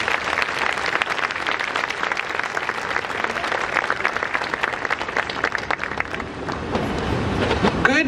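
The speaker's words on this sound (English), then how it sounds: "Please join me in welcoming Sister Regina Marie." An audience at a prayer breakfast in Los Angeles applauds steadily to welcome a speaker, a dense continuous clapping from a large crowd lasting several seconds and fading slightly at the end.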